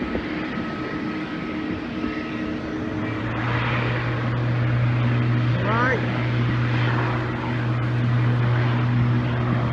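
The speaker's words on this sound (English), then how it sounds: "Propellers have now started, the props." Aircraft propellers spinning up on the ground at Manchester Airport, a low steady drone with a rising whine joining partway through, moderately close amid airport background.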